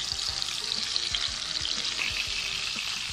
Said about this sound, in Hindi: पैन में थोड़ा सा ऑयल डालना हमने और साथ ही हमने सॉसेजेस डाल देनी है और इनको फ्राई कर लेना है